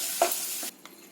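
Cashews, almonds and dates roasting in a pan for pumpkin carrot halwa: a close, bright sizzle with a quick stir, then cutting off abruptly, followed by a faint clink, with no voices.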